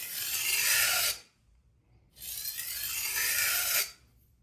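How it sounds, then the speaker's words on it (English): A blade bevel is sharpened with two long, smooth rasping strokes, each about a second and a half, separated by a short pause, close and steady with no talking. "So now we're just smoothing out that bevel"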